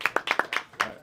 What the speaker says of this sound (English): Give a round of applause, y'all.